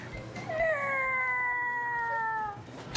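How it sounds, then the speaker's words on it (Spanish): A cat meows in one long, drawn-out, wavering call lasting about two seconds, loud and close against a quiet background. "¡Es un gato!"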